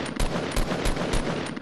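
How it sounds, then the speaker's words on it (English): Fortnite gunfire in a duos battle royale match, a rapid burst of automatic shots with five or six loud, close cracks spaced through the stretch, busy game noise underneath and no talk. "We're getting shot from behind now."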